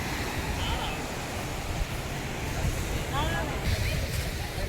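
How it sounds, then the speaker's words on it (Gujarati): Sea waves at Nagoa beach in Diu, a continuous broad wash of surf with wind noise, loud and steady with slight surges, and a faint engine-like whine briefly in the background. "જુઓ દરિયાનો ધોધ બહુ છે અત્યારે"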